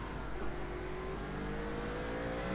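A GT3 race car at speed on the Zandvoort circuit, a continuous engine whine climbing steadily in pitch as it accelerates, heard fairly loud and unbroken, with no talking.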